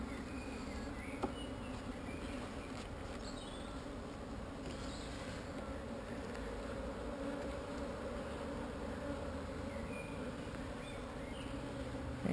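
Honeybees swarm around an open beehive frame, producing a dense, continuous buzzing hum that stays close and steady throughout, with no voices.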